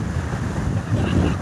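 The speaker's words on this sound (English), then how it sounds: "Very windy and cold today." Strong, cold wind roars across the open overlook at Blowing Rock, buffeting the microphone in loud, continuous gusts that swell near the end.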